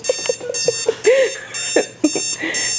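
An alarm clock rings in short repeated electronic beeps, close and fairly loud, with a voice speaking briefly over the ringing.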